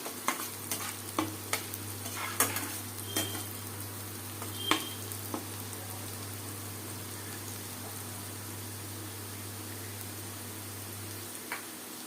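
Onions sizzle steadily in a hot pan with salt, cooking for a dhaba-style bhindi masala. The hiss is continuous and close, broken by a few sharp stirring clicks early on, with no voices.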